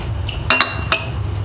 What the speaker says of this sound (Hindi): कोको पाउडर डालेंगे, शुगर डालेंगे, फ्लोर डालेंगे।